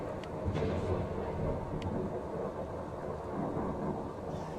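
Steady rumbling storm weather in Fallout 4 with the True Storms mod, a dense wash of rain with low thunder rolling underneath and a few sharp crackles, continuous and fairly loud throughout.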